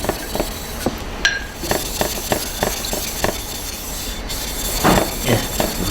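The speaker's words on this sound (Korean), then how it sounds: "면잡이 숫돌 두 개를 이용해서 사용한 숫돌에 평을 잡았습니다" Used sharpening whetstone rubbed against a flattening stone, giving a steady gritty grinding scrape with rhythmic knocks and clicks as the stone is pushed back and forth up close.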